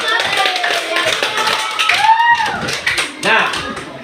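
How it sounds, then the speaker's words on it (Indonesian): A primary school class claps its hands in quick, uneven bursts, with children's voices and chatter mixed in close by. "oke, beri tepukan."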